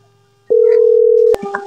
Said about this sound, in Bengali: ফোনটা লাগাই